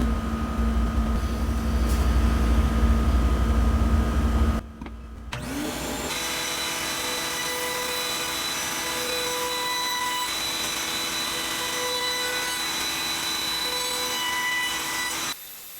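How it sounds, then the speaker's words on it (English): Wooden squirrel feeder pieces are shaped with a round-over bit and sanded. A loud whirring machine runs first, then cuts out briefly, and a steadier, slightly quieter tool hum with a dust-extraction roar carries on for the rest. "Now I'm going to do a round over on these pieces and then sand them down"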